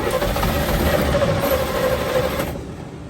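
A 1970 Chevy K10 engine, long parked, turns over steadily in a continuous mechanical churn that holds for several seconds before trailing off near the end.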